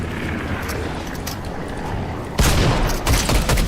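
Fortnite gunfire: a steady, dense stream of rapid shots rattles loudly for a few seconds, swelling into heavier, louder bursts near the end, with no clear talking over it.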